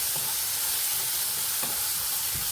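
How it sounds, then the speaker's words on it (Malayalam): A green bean and raw plantain stir-fry hisses loudly in a pan as it is stirred, with steady sizzling and a couple of soft scraping strokes, no voices present. "നന്നായിട്ട് ഇളക്കി കൊടുക്കാം"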